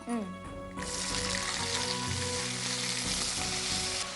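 Cloves, cinnamon, mustard seeds, cumin, chana dal and dried red chillies sizzle in hot oil for an Indian tempering. A brief voice opens the clip, then a loud, steady, close frying hiss fills the rest.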